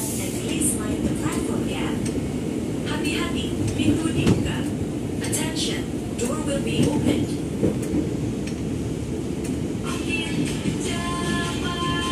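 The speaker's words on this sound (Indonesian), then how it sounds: "saya coba transit dulu di stasiun Tanah Abang" Continuous roar of a commuter train at the busy Tanah Abang railway station in Jakarta, with rumbling wheels and squealing tones layered over crowd noise and faint voices.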